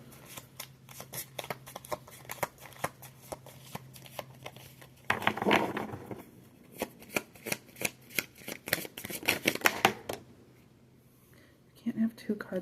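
Oracle cards shuffled by hand during a card reading, a long run of quick papery riffles and slaps, close and fairly quiet, with a short pause before a last few shuffles.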